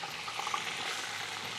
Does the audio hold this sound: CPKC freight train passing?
no